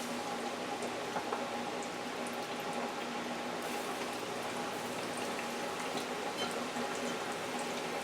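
Chicken wing drumstick pieces deep fry in hot oil, producing a steady, even sizzling hiss with fine crackles throughout, moderately quiet and without voices.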